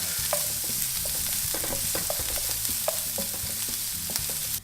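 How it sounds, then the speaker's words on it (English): Steady sizzle of onions frying in a frying pan fills the clip, with scattered clinks and stirring scrapes on top; close, continuous and fairly loud, no voices. "Just going to add that to the pot, the frying pan."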